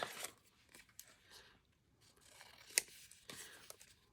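Scissors snip around a sticker in a quiet room for an art journal page: a series of soft, close, crisp cuts and slight paper rustles at an irregular pace, with one sharper snip partway through; no talking.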